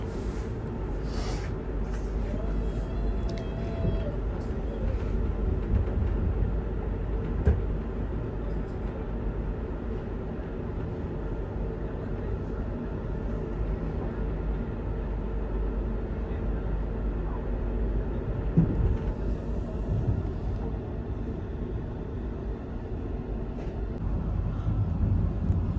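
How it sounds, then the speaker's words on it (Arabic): A train pulls away from a station on the line from Basra toward Diwaniyah, giving a steady low rumble and rolling noise that carries on unbroken, with a few faint clanks and no voices. "طبعا هاي توا بدا يمشي القطار"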